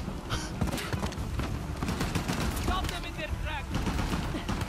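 Enemy gunfire in Uncharted: The Lost Legacy rattles in continuous rapid bursts of shots over a dense, steady game soundscape, with occasional high whistling tones.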